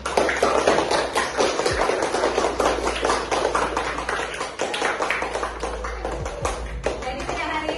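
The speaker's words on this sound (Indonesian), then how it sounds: "Beri plus tepuk tangan semuanya." A classroom of students gives a burst of applause, dense, rapid claps that keep going without a break for several seconds. The clapping sounds close and fairly loud, with scattered voices mixed in.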